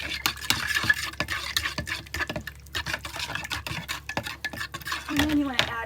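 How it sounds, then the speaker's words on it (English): A spoon stirs vegetable oil into vegan cinnamon roll dough ingredients in a bowl, making repeated clinks and soft scraping taps in an irregular rhythm, close and moderately quiet. "And we're going to mix that up."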